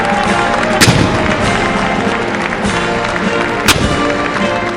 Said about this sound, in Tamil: அமெரிக்க அதிபராக ட்ரம்ப் பதவியேற்றுக் கொண்டதை தொடர்ந்து பீரங்கி குண்டுகள் முழக்கம் செய்யப்பட்டன.